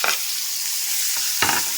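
Onion going into a pan for moong dal rasam, a loud, close, continuous sizzle of hot oil with two brief scraping stirs, and no voices.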